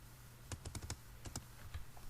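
Quiet tapping on a computer keyboard, a short run of separate key presses in two small bursts, close and alone over a low hum.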